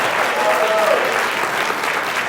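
Congregation at New Birth Church breaks into sustained applause, a dense, steady wash of many hands clapping at even loudness throughout, with a brief whistle or voice rising above it early on.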